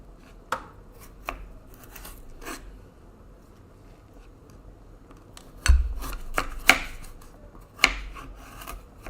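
A knife chops vegetables julienne-style on a board in sparse, quiet strokes, a few isolated cuts early on, then a louder cluster of firmer chops with a thudding knock, all close and without talk.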